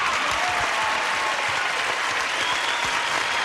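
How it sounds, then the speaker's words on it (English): A studio audience at a 1984 television game show applauds the two players, a loud, sustained wash of clapping that holds evenly throughout with no one speaking. "Let's say hello to our two players here with a brisk round of applause"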